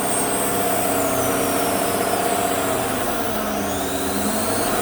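Engine of a 2014 GM truck with a 5.3 GDI V8, idling while drawing top engine cleaner through the MAP sensor vacuum hose, a steady loud roar with a whooshing hiss, no talk.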